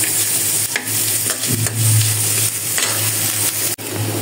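Garlic and onion fry in oil for a tempering, giving a loud, steady sizzle close by, broken by a few stirring scrapes and one sharp clack near the end.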